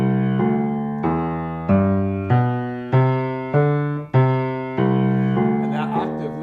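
Piano bass notes stepping along in a steady walking line, with some notes jumping up an octave, played alone with a chord near the end.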